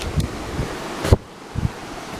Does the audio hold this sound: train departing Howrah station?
no